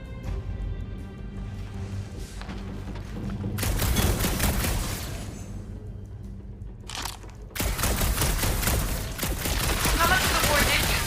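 Rapid bursts of gunfire from the video game Marvel's Guardians of the Galaxy crackle in dense volleys, pausing briefly before a louder barrage resumes, with game dialogue spoken in between.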